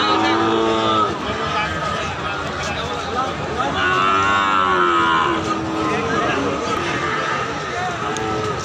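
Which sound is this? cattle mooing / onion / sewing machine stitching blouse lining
cattle mooing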